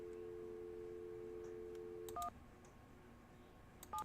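Telephone keypad tones in the Nancy Drew: Secret of the Scarlet Hand game, a long steady dial tone followed by two short beeps pressed a couple of seconds apart, faint and without talk.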